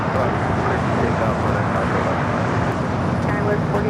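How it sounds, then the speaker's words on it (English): A Hawaiian airliner comes in to land on runway 24 right at LAX, a steady broad jet roar with wind-like rushing heard from a distance, with talk faintly underneath. "Hawaiian 810 about to land about 24 right."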